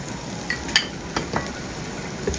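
About twelve finely chopped garlic cloves frying with cumin in hot oil, giving a continuous soft sizzle with a few sharp clicks and scrapes of stirring, close up and alone.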